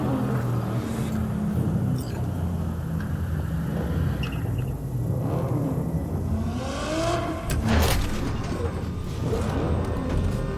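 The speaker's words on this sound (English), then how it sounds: "Start your engines, folks." In Cyberpunk 2077, car engines rumble and rev steadily as vehicles drive off across a desert road, with a sustained low growl and occasional rising revs.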